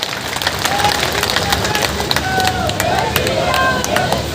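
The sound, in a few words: crowd applauding at political rally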